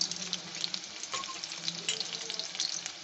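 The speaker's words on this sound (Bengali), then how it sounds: "একটু বাড়িয়ে দিচ্ছি, মিডিয়াম হিটে করতে হবে, ভাজতে হবে।" Food fries in a pan over medium heat, a dense crackling sizzle of popping oil that stays steady and close, with the occasional soft scrape of stirring.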